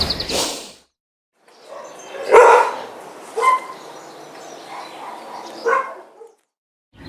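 A dog barks at a kennel in a few spaced, mid-distance bursts over a quiet background, with no talk.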